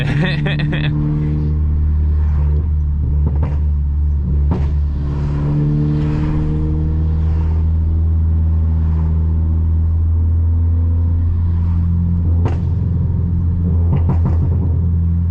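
A Volkswagen Golf R tuned to over 500 bhp idles with a deep, throbbing rumble, rising briefly as it revs, while people talk nearby.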